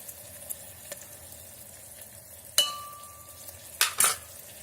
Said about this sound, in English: Now fry this mixture well till the tomatoes are done.